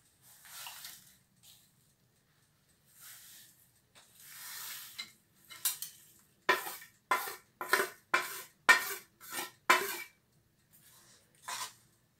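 A spoon stirs grated jaggery into tamarind pulp in a pan over medium heat. Soft, scattered scraping opens the moment, then a run of about eight sharp, evenly spaced metal clanks and scrapes follows, close and fairly quiet.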